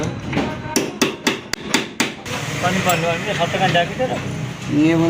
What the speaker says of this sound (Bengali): এই চেক নাটটা এই পাতিটা দিয়ে আমাদের টাইট দিতে হবে